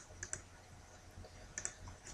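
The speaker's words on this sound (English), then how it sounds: "Just typing in some other ones that I know that trend well" Keys clicking on a computer keyboard in two short bursts, quiet and close, with a low background hum and no talk.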